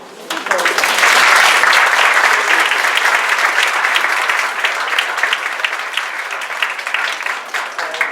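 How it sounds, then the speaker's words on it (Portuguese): Audience at a psychoanalysis conference session breaking into applause for a speaker, a thick, sustained round of clapping that swells quickly and then eases slightly toward the end, with some voices faintly underneath. "Palmas para ela."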